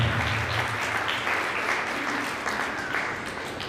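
Loud, vigorous applause from a Christian church congregation, a thick close-up roar of many hands clapping at once that holds steady throughout, tapering slightly at the end.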